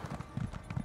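Horse hooves clip-clopping in Elder Scrolls Online, a quick, steady rhythm of muffled thuds at moderate loudness.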